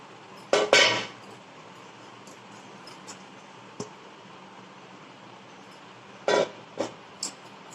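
Pots and utensils clink in a kitchen as a mixed batter is transferred into a cooking pot, a few sharp metallic clatters, close and loud, with quieter taps between.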